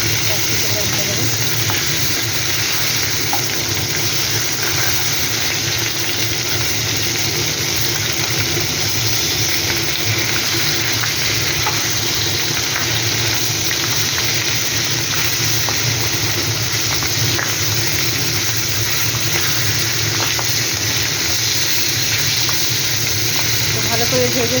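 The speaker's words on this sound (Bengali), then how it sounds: "এবার মাছগুলো উল্টে দেবো। মাছটা ভাজা হয়ে গেছে" Pieces of katla fish frying in oil in a pan, a loud continuous sizzle that persists throughout.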